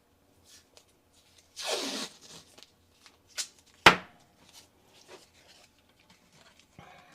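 Blue painter's tape being pulled off the roll and pressed on to hold a part of a toy truck sawdust dumper in place: a long tearing rip, then a sharp snap and scattered light taps and rustles, close and quiet.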